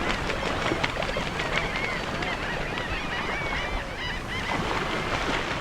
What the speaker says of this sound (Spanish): Al atardecer, grandes bandos de aves mueven la quietud reinante en la periferia